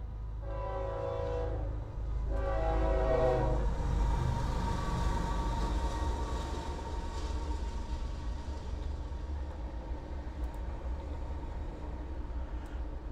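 A train in the SCP: Nukalypse video game passes with two long horn blasts early on, followed by a sustained rumbling roll of the cars that fades slowly, heard alone without talk.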